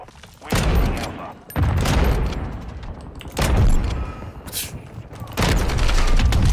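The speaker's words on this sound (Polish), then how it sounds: "Ta broń ma tak donośny strzał, że aż czasami się wzdrygam, jak z niej strzelę." Several loud, booming video game gunshots from Modern Warfare 2 beta in quick bursts, each followed by a rumbling tail, spaced a second or two apart with brief quieter gaps.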